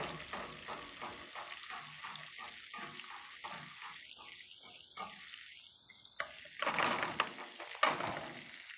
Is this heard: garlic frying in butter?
yes